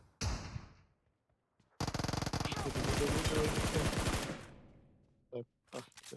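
Automatic gunfire rings out in a video game: a short sharp shot, then a long, loud sustained burst lasting a couple of seconds, followed by a few brief shots near the end.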